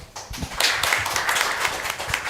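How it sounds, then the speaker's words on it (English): Audience applause at an international symposium on religion, media and culture, a dense wash of many hands clapping that swells quickly and holds steady for a couple of seconds, with no talk over it. "Please welcome them with a big applause."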